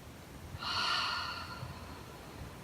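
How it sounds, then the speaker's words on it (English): A single deep breath during a yin yoga stretch, one airy exhale swelling and fading over about a second against a quiet room, close and soft, with no talking. "One more deep breath here."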